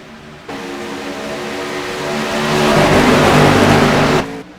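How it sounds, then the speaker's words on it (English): Race car engines roar in a dense pack as the field heads into turn one at Talladega Superspeedway, a loud sustained drone swelling steadily before cutting off. "the cars making their way into turn number 1"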